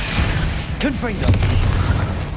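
A Confringo fire-blast spell in the Hogwarts Legacy video game, cast during Xbox combat, goes off as a loud booming burst layered with a bright magical whoosh, while a person talks over it.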